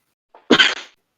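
A single sharp human sneeze, a short breathy intake followed by one explosive burst, close and loud against silence.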